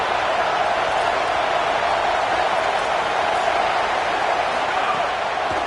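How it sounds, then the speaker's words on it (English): A home crowd at Alabama's Saban Field roars on third down against Tennessee, a dense, steady wash of noise that holds loud and unbroken throughout. "The Tide crowd rolling noise down onto Saban Field on 3rd down"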